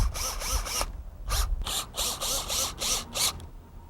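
A power driver runs foundation screws through a U-rail into a wood greenhouse base, making repeated close, loud whirring bursts with a ratcheting clatter and short pauses between runs.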